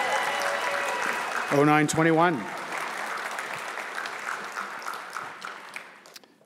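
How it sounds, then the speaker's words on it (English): A graduation ceremony crowd applauds early childhood education graduates, steady clapping beneath a brief sung or tonal voice near the start, slowly fading. "Let's have a round of applause for the graduates of ECE."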